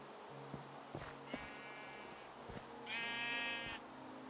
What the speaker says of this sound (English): every now and again I'll come back and I'll feed the sheep